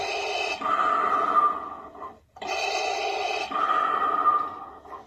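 A Star Wars Black Series Darth Vader toy helmet plays its electronic breathing effect: two long, loud mechanical breaths, each an inhale and exhale, close and alone with a brief pause between.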